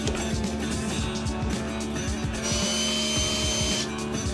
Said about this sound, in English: if we could drill through the brass, it'd be cool if it came out of the side